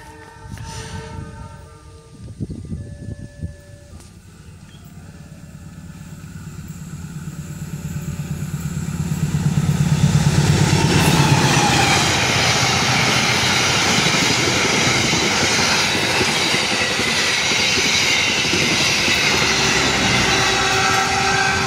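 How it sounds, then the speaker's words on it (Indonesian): Sancaka passenger train number 96, running from Yogyakarta toward Surabaya Gubeng, approaches with a horn and then thunders past close by in a loud, sustained roar of wheels and engine. "Persiapan kereta api 96 Sancaka dari arah stasiun Yogyakarta tujuan Surabaya Gubeng."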